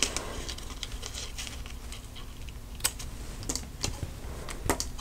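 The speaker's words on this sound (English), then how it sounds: "grab your ribbon scissors and just cut off the ends." Ribbon scissors snip off the ends of ribbon during paper crafting, giving a few sharp, light clicks spread over a quiet background hum.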